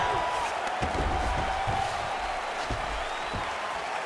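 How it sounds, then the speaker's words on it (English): Crowd applauding and cheering after a round of a UFC fight in the video game EA Sports UFC 4, a steady clapping wash at moderate level, with a commentator's voice over parts of it. "So the crowd voicing its appreciation after that round."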